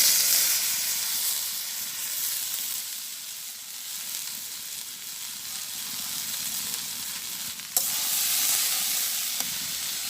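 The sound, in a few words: water taro frying in oil in a wok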